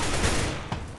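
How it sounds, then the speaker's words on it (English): A gunshot from Counter-Strike: Global Offensive, a loud sharp report followed by a second crack close behind, with no talk over it. "That's a rifle, that's a rifle. And that's a shot."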